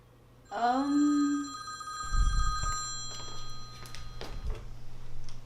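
A telephone rings once with a bright electronic bell tone that rises and then holds. It is followed by handling clatter and a few soft clicks as the receiver is picked up.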